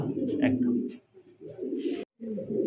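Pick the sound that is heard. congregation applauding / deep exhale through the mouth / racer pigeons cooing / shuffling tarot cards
racer pigeons cooing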